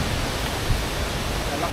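Golden Waterfall on Taiwan's north coast, heard as a continuous, even rush of falling water that fills the scene at steady volume.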